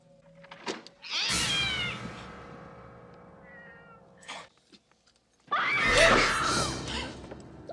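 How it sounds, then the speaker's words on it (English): A cat yowls and caterwauls in a 1992 horror film, two long drawn-out cries separated by a quieter stretch, loud and close, with a brief gasp-like sound between them. "Or something that sounds like a cat."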